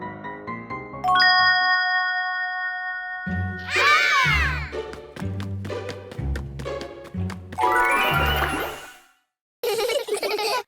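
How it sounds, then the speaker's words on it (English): A cartoon mystery soundbox chimes with bright ding-dong tones, then springy boing-like sweeps and quick tinkling ting-ting notes, cheerful and close, with short pauses between the playful effects. "the box makes a cheerful boing sound"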